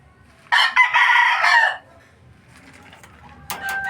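A fighting rooster crows loudly nearby for about a second, followed by quieter scattered clucks and a sharper call near the end.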